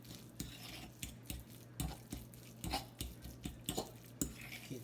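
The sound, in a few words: fork mixing crab and salmon stuffing in a bowl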